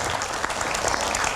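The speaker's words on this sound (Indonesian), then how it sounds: "Tepuk tangan sekali lagi dong" Dense studio audience applause during a talk show on an Indonesian TV set, a continuous wash of many clapping hands, moderately loud and unbroken, with no speech over it.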